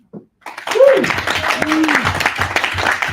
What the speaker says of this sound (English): So can I get some super claps for Super Steve?